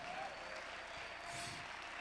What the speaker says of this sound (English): Come on, keep clapping like we got power.